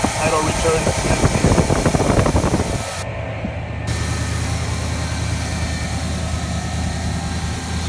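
A 1979 Firebird's engine settles into a steady, low idle after its EGR valve is released, following a brief stumbling, rougher stretch; the idle drones on evenly and close.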